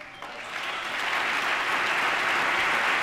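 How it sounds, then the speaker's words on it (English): An audience applauds President Obama's speech, clapping starting thin and quickly swelling into a dense, sustained wash of applause from a large crowd. "Even Paul Ryan applauded."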